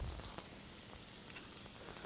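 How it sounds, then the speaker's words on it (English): Garlic and onions sauté in a hot pan, giving a faint, steady crackling sizzle with scattered light pops, close but quiet, and no voices over it. "So first we're going to saute garlic and onions."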